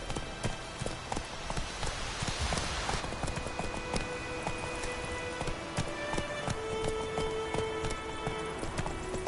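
Hooves of the horse Roach in The Witcher 3 clatter along in a quick, repeating gallop rhythm at moderate volume throughout, with faint ambient tones and no talking.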